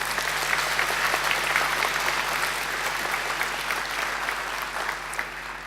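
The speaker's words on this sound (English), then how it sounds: "So I think they deserve a great round of applause too" A graduation-day audience breaks into a full, dense round of applause, many hands clapping steadily and loudly for several seconds, tapering slightly at the end, over a faint low hum.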